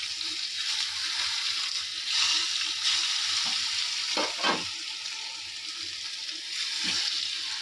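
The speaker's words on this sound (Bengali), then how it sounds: "দেখুন, এখানে আমি বেগুনগুলো ভাজা বসিয়ে দিই।" Eggplant pieces frying in a pan give a loud, continuous sizzle, with a few soft scrapes and clinks of a utensil partway through.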